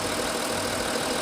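A diesel Audi A8 50 TDI quattro engine with about 190,000 km idles steadily with a low, even rumble and faint knocking texture, continuous throughout with no voices.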